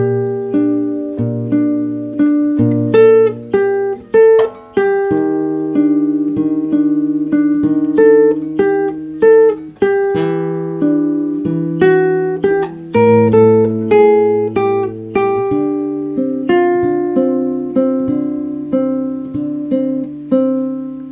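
A clean guitar plays a slow fingerstyle chord melody, a top line supported by moving inner voices and bass notes, close and unaccompanied, with no talking.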